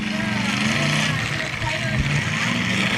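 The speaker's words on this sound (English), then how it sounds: "but all 3 cars are still moving." Battered demolition derby cars keep moving around the arena at a 2019 derby in North Battleford, a steady dense rumble of engines and crowd noise with commentary over it.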